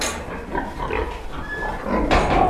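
Pigs grunting in a barn near a sow, several close, low snorting grunts and oinks overlapping in a short burst.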